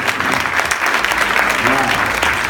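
An audience claps for an award recipient, a lively, close burst of applause that stays steady throughout, with voices faintly mixed underneath.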